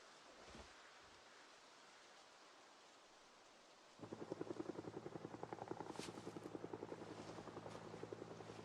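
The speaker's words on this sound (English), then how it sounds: "That's a helicopter. That's a helicopter." Helicopter flying in the Project Zomboid survival game, a steady rapid rotor chop that kicks in abruptly partway through and continues loudly over a wash of ambient noise.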